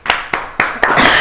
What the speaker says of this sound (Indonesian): Kita berikan tepuk tangan buat Santi Mansula